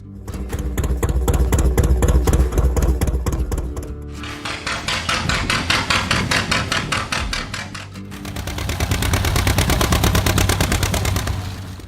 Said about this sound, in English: John Deere Model G.